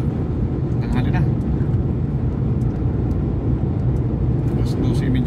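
Midday road traffic: a continuous low engine rumble and tire roar from passing vehicles, loud and unbroken throughout.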